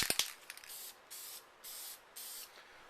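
Aerosol spray paint coming out in blue onto an Xbox controller, a few clicks first, then three or four even bursts of hissing spray of about half a second each, close up with no talking.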